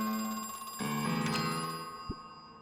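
A telephone rings in the video game Crow Country, a bright electronic bell trill that sounds close and clear, ringing on steadily for a couple of seconds with a short break in the middle.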